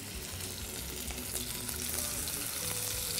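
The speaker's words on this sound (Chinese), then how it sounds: "那我们一开始下锅的时候先不要翻它，我们先让它煎一面就好" Chicken pieces sear in a pan with sliced ginger, producing a steady close sizzle and spitting crackle that stays even and continuous throughout, with no one talking.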